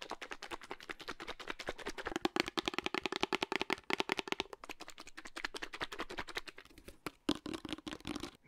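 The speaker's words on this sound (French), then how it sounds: "Merci beaucoup pour vos applaudissements" Applause from a small audience: a quiet, dense patter of rapid claps that keeps going for several seconds and then thins out toward the end.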